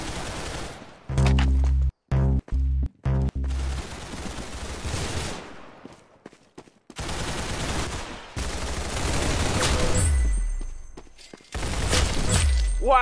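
A shot lands a headshot in the Roblox game Arsenal, with loud game gunfire in sharp bursts, shattering impacts and repeated choppy blasts filling most of the stretch.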